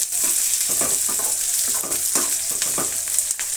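Curry leaves and cumin seeds frying in oil in a pan, a loud close crackling sizzle with spatters and stirring scrapes repeating every half second or so, no talking.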